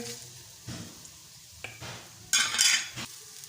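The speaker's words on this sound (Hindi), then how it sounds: "लहसुन अदरक और गरम मसाले को हमने 5 मिनट तक भून लिया है" Garlic-ginger paste and garam masala frying in oil in a kadhai for potato fry masala: scattered stirring scrapes and clinks over a low sizzle, then a loud burst of sizzling near the end, with no talking.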